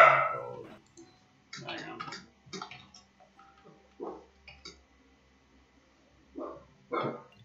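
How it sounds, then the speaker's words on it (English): Dogs in a Roblox game bark in a series of short, separate bursts spread across the stretch, mid-distance and fairly soft, with voices talking in between. "They're barking at the brothers."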